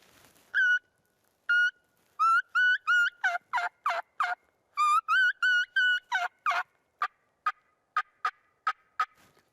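A mouth call imitates a turkey's kee-kee run: a series of high, whistled yelps in short bursts, then quick sharp clucks, close and clear.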